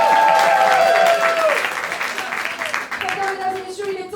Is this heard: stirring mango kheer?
no